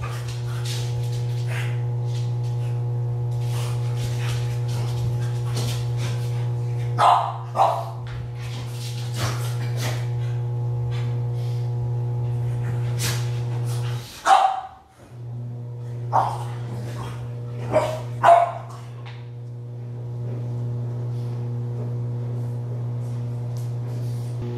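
A dog barks and yips in short scattered bursts while playing indoors, over a constant low electrical hum, with quiet gaps between the barks.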